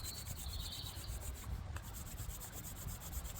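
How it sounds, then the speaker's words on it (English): Two hands rubbed briskly together, up close, producing a steady, continuous brushing friction that lasts a few seconds with no one talking. "And another thing I like to do is rub my hands together"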